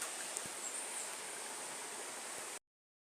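A river flows steadily where two rivers meet, giving a broad, even rush of water that continues without a break and then cuts off abruptly.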